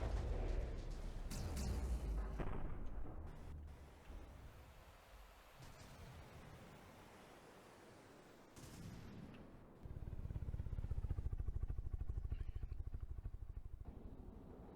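Video game artillery firing shells with timed fuses, producing heavy booms and rumbling blasts in uneven bursts, with a rapid rattling stretch of fire near the end, fairly distant and muffled.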